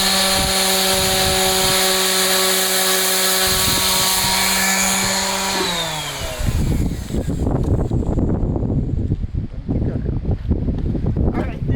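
A power sander works over a wooden table being refinished, first a steady high motor whine with strong tonal hum, then dropping into rougher, grinding abrasion noise that rumbles on unevenly to the end, loud and close.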